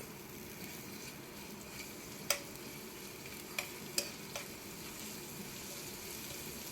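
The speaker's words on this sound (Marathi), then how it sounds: "एका पॅनमध्ये थोडेसे तेल टाका त्यामध्ये अद्रक लसूणची पेस्ट टाका याला थोडेसे तळून घ्या" Ginger garlic paste frying in a little oil in a pan, a soft steady sizzle under a few sharp spatula clinks spaced irregularly, close but fairly quiet, no talking.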